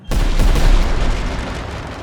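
Massed musket fire from French soldiers in a Napoleonic-era video game battle, a loud close burst of overlapping shots that booms at once and then rolls into a dense, slowly fading crackle.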